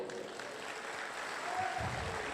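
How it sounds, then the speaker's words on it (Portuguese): A church congregation claps together during a sermon, a moderate wash of applause that swells slightly toward the end, with no voices over it. "Você pode aplaudir o Senhor?"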